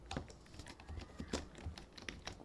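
Rapid clicking of computer keys as text is typed, a close, quiet run of irregular taps lasting a couple of seconds.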